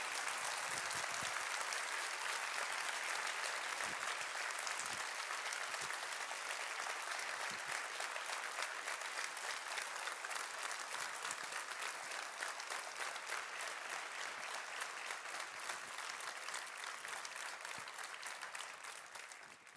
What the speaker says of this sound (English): So now we can all clap.